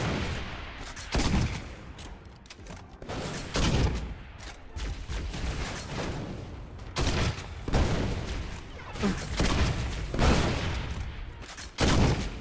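Repeated heavy explosive bursts from a grenade launcher in the Halo video game, rapid booms and blasts coming in clusters over a constant layer of battle noise.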